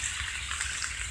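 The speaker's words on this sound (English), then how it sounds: "This is Secline, where the water's flowing to" Flood water flowing down a street in Kings Beach toward the drains and lakes, a steady close rushing wash with no break over the short stretch.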